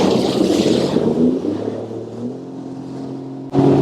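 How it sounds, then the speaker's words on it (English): Motor engine noise rises and falls on a rough, busy inside passage near Parry Sound with boats passing, close and loud, easing off before a sudden surge near the end. "It gets a little rough in here with a bunch of boats passing one another"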